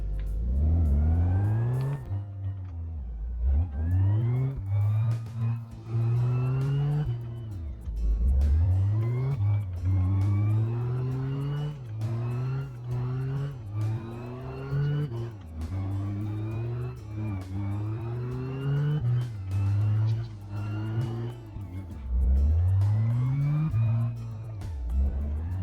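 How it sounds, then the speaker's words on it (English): In the video game My Garage, a small pickup shop truck's engine starts and then revs repeatedly as it drives, climbing and falling through gear changes in a loud, continuous whine with no talk. "So let's get her fired up and see if we can get her back home."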